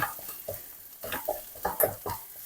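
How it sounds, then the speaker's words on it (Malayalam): Mussel fry with pepper and curry leaves being stirred in a pan: a few quick scraping strokes and light clinks of a spoon over soft sizzling, close and quiet, with no talk. "ഒന്നും കൂടി ഒന്ന് ഇളക്കി കുരുമുളക് എല്ലാത്തിലും ഒന്ന് പിടിക്കണമല്ലോ"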